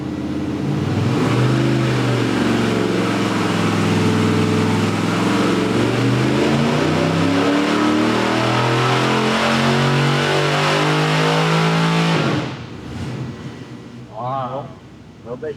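A 450HP small block Chevy roars on a dyno, climbing steadily in pitch through a long loud pull before cutting back to idle, with voices talking briefly afterward.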